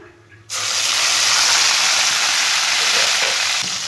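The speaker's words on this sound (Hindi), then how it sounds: "सब्ज प्याज और लहसुन को 3 मिनट के लिए भून लेंगे।" Green onion and garlic hitting hot oil in a pan with coriander seeds, a sudden loud sizzle that starts abruptly and holds as a steady, close frying hiss.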